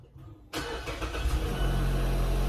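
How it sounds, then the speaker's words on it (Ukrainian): A car engine turns over and catches after a battery replacement, starting abruptly from near silence and settling into a rough, steady idle that rumbles close by. "Машина завелась, все працює"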